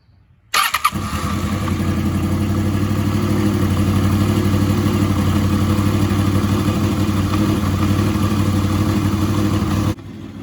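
A sportbike engine starts up after an oil change and settles into a loud, steady idle close by, running evenly for about nine seconds before cutting off.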